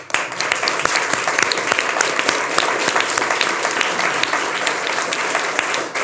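A studio audience on a television talk-show set claps steadily, a dense crackle of many hands sustained throughout without a break.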